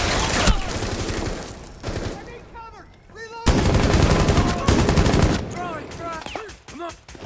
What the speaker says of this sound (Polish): te fajerwerki teraz jak małe bomby robią